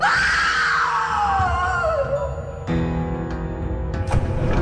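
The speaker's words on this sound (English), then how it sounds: "Kana screamed." A woman lets out a long, loud terrified scream that starts high and slides downward, followed by tense dramatic musical stabs and thuds, with no speech.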